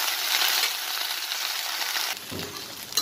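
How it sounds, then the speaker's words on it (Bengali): Food frying in a pan with a little water, a steady close hiss and crackle that fills the clip, with a spatula scraping and shifting near the end. "সামান্য একটু জল আছে, এটা জলটা নড়ে গেলে আর ধীরে ধীরে ভাজা হতে থাকবে।"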